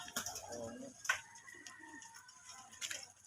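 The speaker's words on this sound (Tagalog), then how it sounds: "Ang dami mo palang alaga dito" Soft pigeon cooing in a room, a few low murmuring calls over a faint background hum, with a brief sharp tap partway through.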